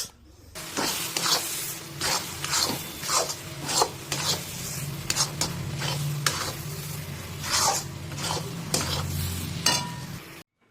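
Eggplant bharta with chopped coriander leaves being stirred in a pan, a run of repeated scraping strokes over a soft steady sizzle, close up, with no voices.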